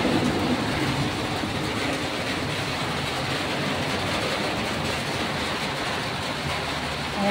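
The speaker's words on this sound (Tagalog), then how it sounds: "So ngayon, umuulan talaga." Heavy rain falls steadily in Davao City, a dense, even broadband hiss heard close and loud throughout, with no voices on top.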